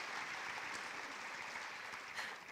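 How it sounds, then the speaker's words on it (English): Steady applause from a crowd, dense and continuous, holding at a moderate level with a brief swell near the end. "Give yourselves a round of applause."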